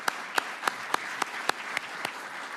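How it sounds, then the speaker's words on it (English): Sparse, faint clapping at a sustainability conference welcoming session, a few evenly spaced claps that sound like only a handful of hands in a large room. "So if you can join me just in giving them again a round of applause."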